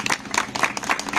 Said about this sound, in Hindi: एक बार जोरदार ताली है इन सभी लोगों के लिए।